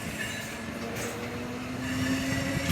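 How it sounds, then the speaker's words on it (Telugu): An express train between Tiruvanantapuram and Tiruchirappalli runs on the rails, a steady close rumble of wheels with a faint squeal rising toward the end as it takes a slight curve. "మన ట్రైన్ చూసారా టర్నింగ్ ఎలా కొడుతుందో?"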